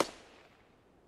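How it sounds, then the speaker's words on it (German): A single sharp, distant gunshot crack with a short fading echo, heard alone, in the video game Escape from Tarkov on the Customs map. "Die Schüsse kamen aber aus der Richtung."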